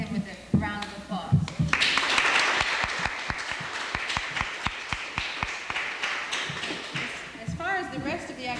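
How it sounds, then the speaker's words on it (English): Audience members at a Vermont farms event give a round of applause, a steady stretch of many hands clapping in a room, with a voice speaking briefly before the applause and again as it fades. "And I want to thank them with a round of applause."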